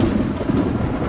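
Thunder rumbles in The Talos Principle video game, a dense low roar with rain hiss that stays loud and steady for the whole short stretch, with no voices.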